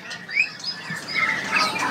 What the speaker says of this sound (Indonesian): Jadi ini anis kembang ya.